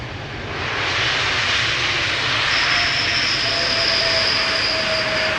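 Airbus A321neo airliner, about a year old, arriving at Amsterdam Schiphol Airport: a loud, steady jet roar that swells and holds throughout, with a rising engine whine emerging midway, heard alone without talk.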